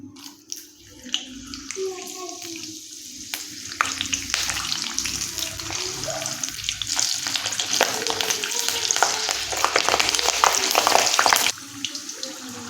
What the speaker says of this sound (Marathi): आता ही हिरवी मिरची आहे तीही मी या तेलामध्ये चांगली तळून घेते